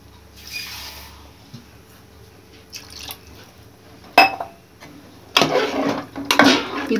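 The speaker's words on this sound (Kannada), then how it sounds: "ಇನ್ನೊಂದು ಸ್ವಲ್ಪ ನೀರು ಆ್ಯಡ್ ಮಾಡ್ಕೊತೀನಿ ನಾನು" A little more water poured into a cooking pot of spiced masala, heard as a couple of loud splashing bursts after a quiet stretch with faint drips.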